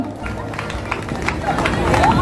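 An audience at a Pongal festival stage in Chennai claps in a burst of applause that builds over a couple of seconds, with crowd chatter mixed in.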